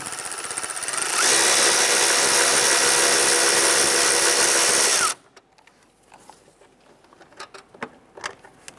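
A power tool loosens a 10mm bolt on the exhaust manifold of a 1999-2004 Jeep Grand Cherokee 4.7L V8: one loud, steady, close whirring burst of about four seconds, then quiet clinks and handling sounds.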